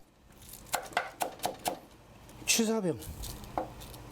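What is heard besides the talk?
knife chopping food while preparing a meal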